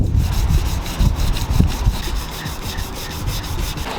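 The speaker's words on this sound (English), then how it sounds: "we're now going to use a 320 grit sandpaper and sand this down to smooth it out" Dried Bondo body filler is hand-sanded with 320 grit sandpaper in steady back-and-forth rasping strokes, close and fairly loud, with no voices over it.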